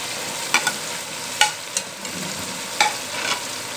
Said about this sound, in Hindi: अब इसमें हम डालेंगे पालक, ये हमने पालक पीस के रख ली थी